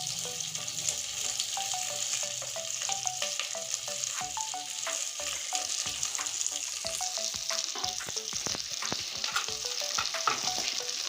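Capsicum and onion petals fry in a hot pan, a steady bright sizzle broken by frequent sharp clinks and scrapes of a spatula stirring throughout, close and fairly loud with no talking.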